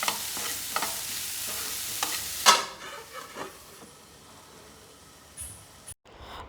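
A vegetable palya is mixed and cooking in a home kitchen pan, with a soft background sizzle broken by scattered stirring scrapes and clinks, one sharper metallic knock, then a brief clatter as the pan is covered, with no speech.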